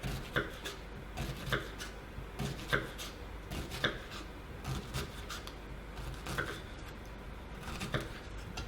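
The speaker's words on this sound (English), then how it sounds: "then you are going to dice your onion" An onion is diced with a knife on a chopping board, giving a steady run of crisp, close chops in an uneven rhythm, roughly two or three strikes per second, with no talking.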